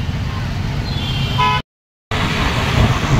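Traffic on Western Express Highway on a busy Sunday of Ganesh idol arrivals, after a jam: a steady, loud roar of passing cars and buses, briefly cut out partway through.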